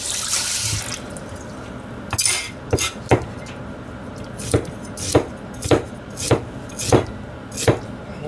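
Knife chopping food on a cutting board during Japanese meal prep for dumplings from pâté, pork belly and salted mackerel: after a burst of running water at the start, roughly eight sharp, evenly spaced chops ring out near and loud.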